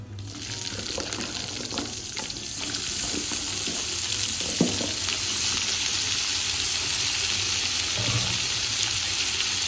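Cut sweet potatoes hit a pan with cumin and white sesame, setting off a broad, steady rushing sizzle that swells and holds loud and close, with a few faint clinks, no talking.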